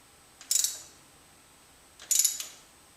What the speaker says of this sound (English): we can just use the ratchet gently at first